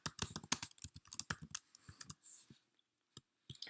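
Computer keyboard being typed on in quick bursts of crisp key clicks, close and clear, with short pauses and a few isolated taps toward the end.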